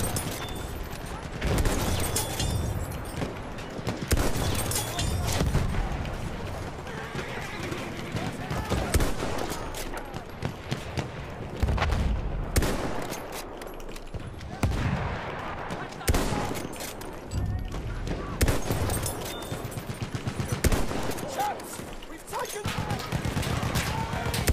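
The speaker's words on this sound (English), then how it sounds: "There's an enemy machine gun." Enemy machine gun fire in Battlefield 1, dense rattling bursts and booming shots that run continuously through a busy game battle, loud and close, with people talking throughout.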